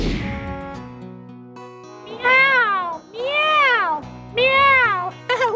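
A voice imitates a cat, giving three drawn-out rising-and-falling meows, close and clear, after a quiet musical stretch.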